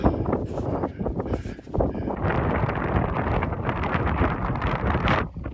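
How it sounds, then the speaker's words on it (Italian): Strong mountain wind sweeping fresh snow on a winter summit, a loud rushing roar that buffets the microphone in gusts, briefly easing before surging again and holding steady. "il vento forte che spazza la neve fresca"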